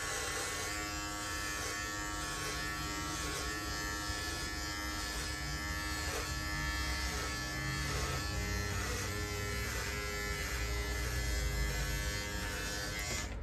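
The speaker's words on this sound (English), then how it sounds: "It doesn't get any less powerful as you are going through trimming your beard." A Norelco electric beard trimmer cuts through a beard, giving a steady close motor buzz with slight shifts in pitch as it moves over the hair, heard alone without talk.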